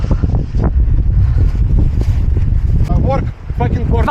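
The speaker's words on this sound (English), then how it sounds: "Every day, wind, every day." Strong wind buffets the microphone at Spinosa beach, a loud, roaring gust that runs throughout, with brief voices calling out near the end.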